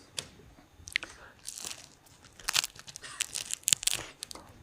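Someone bites and chews thin crunchy ham close up, with crisp irregular crunches and crinkling bursts building in quick succession.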